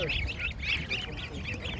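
Goose goslings peep and honk in quick high bursts at an Ankara poultry market, ducks quacking among them, fairly faint, with a voice nearby.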